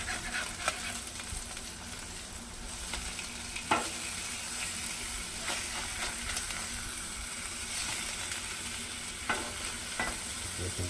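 Ribeye steaks sizzling on a Blackstone griddle outdoors, a continuous close hissing fry with occasional scraping knocks as the steaks are turned, no talk.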